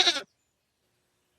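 A single short goat bleat, brief and clear, cutting off abruptly into silence as a storybook sound effect for billy goats.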